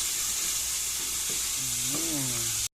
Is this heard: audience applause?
no